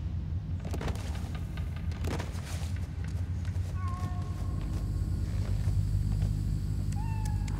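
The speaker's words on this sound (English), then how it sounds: "Just hear the cat meow." In the video game Spider-Man: Miles Morales, a cat meows a couple of times amid game ambience with clanks and rumbling, with spoken voices over it.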